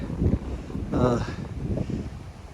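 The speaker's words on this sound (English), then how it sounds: "Wind's very, very strong" Strong wind on a mountain top along the Appalachian Trail buffets the microphone with a steady low roar and a brief surge, while a person speaks briefly.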